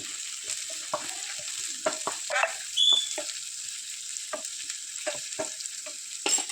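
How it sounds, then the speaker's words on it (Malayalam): Banana sautéing in a pan with a steady soft sizzle, broken by repeated scraping and stirring clicks of a spatula, close by with no talking. "പഴം മേടിച്ചു ഒന്ന് വഴറ്റാൻ വെച്ചിട്ടുണ്ട് കേട്ടോ"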